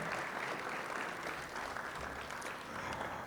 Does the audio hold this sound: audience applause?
yes